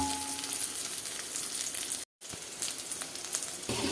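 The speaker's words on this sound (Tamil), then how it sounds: "எல்லாத்தையும் வதக்கிக்கலாம்." Dried red chillies and curry leaves sauté in a pan for ulundhu chutney, a steady close frying crackle and hiss that stops briefly midway, then resumes, with no speech.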